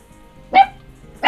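A pet dog lets out two sharp barks close by, the second following less than a second after the first, with a quiet room in the pauses.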